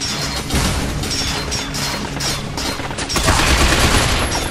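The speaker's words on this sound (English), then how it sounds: "Shit, they got us pinned down! Damn, I'll take care of the machine gun." Sustained automatic gunfire and machine-gun bursts in the third-person shooter Binary Domain, loud and dense with crashing impacts, swelling louder near the end with no talk.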